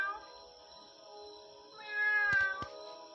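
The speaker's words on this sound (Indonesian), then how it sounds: "Ya kucing lah." A cat meows in a drawn-out, wavering call, heard alone and fairly close, with two short clicks near the end, played as a sound to guess in a game.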